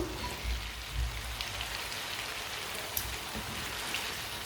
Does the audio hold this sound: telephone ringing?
no